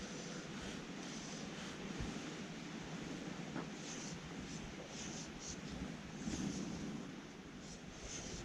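Steady wind rushes across an open riverside on the River Yeo during fly fishing, a broad continuous roar with gusty swells and no talk.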